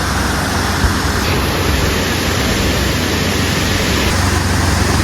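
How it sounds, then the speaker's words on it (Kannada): A waterfall roars nearby as a loud, steady, unbroken rush of falling water that fills the whole scene with dense hiss. "ಹೆವ್ವೇ ನೋಡಿ ಫಾಲ್ಸ್"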